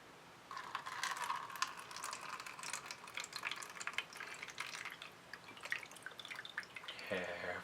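Water poured into a bowl for a children's leprechaun science kit, a soft continuous splashing and trickling with scattered drips, fairly quiet and close, ending with a brief voice.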